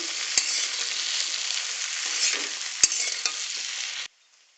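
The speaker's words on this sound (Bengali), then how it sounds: "একটু নাড়াচাড়া করে নেব তেলে" Eggplant pieces with turmeric and salt are stirred while frying in hot oil. A steady, bright sizzle runs throughout, broken by a few scraping knocks of the spoon, before cutting off abruptly near the end.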